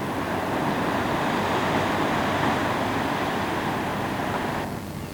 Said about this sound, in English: This is the Praia de Ana, which is about 100 yards or so from the hotel.